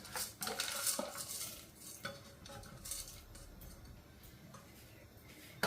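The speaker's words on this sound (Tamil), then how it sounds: "போட்டு இதை நல்லா மிக்ஸ் பண்ணி எடுப்பேன்" A spoon knocks and scrapes against a pot as sweet pongal is mixed with rock sugar, raisins, cashews and cardamom in a home kitchen, producing quiet, irregular clinks and scrapes close by with no talking.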